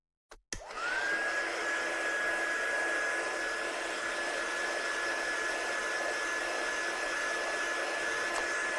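A hair dryer blows steadily on textured diamond paste spread over a craft card background, a continuous close whooshing roar with a high whine that starts after a brief click and runs unbroken throughout.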